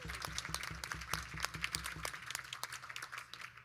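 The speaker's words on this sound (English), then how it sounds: "Big round of applause." Audience applause at a live music show, a steady patter of many hands clapping with a few louder claps, close and fairly faint, with a low hum of talk underneath.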